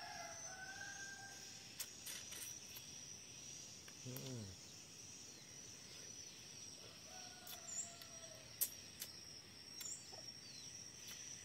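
A rooster crows once among quiet village outdoor ambience, with a few soft clucks and chirps from free-range chickens and chicks, crickets and scattered birds faint in the background.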